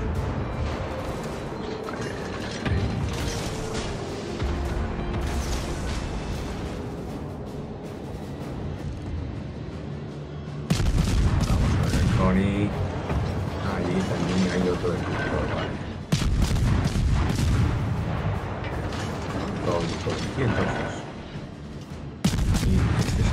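Naval gunfire in World of Warships: Legends: heavy booming salvos break in at spaced intervals over a steady mechanical rumble and clanking from warship machinery.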